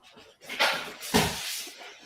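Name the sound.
dog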